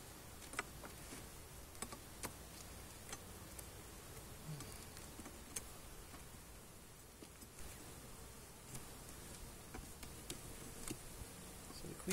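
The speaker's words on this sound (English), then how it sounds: "Alright, bees, get out of there." Honeybees around an open beehive with an upper super, buzzing faintly and continuously in a steady drone, with scattered small ticks and clicks and no voices.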